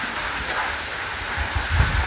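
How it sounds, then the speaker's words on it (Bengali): Heavy rain falls outside, a dense steady hiss with soft low rumbles beneath, close and continuous with no voices. "প্রচুর বৃষ্টি হইতেছে"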